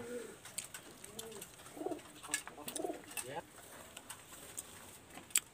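Pet pigeons in a loft coo in low, soft, repeated phrases, with a few faint chirps and a quiet voice in the background.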